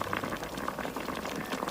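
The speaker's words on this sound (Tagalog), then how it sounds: "Ayan, kulong-kulo na siya." Sauce for pompano sarciado boils hard in a pot, a dense continuous bubbling and popping at close range, steady throughout with no voices.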